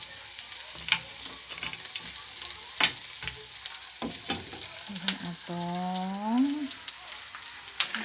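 Meat for adobo fries in a pan: a continuous sizzle broken by sharp scrapes and clatters of stirring, with a short spoken word rising over the crackle.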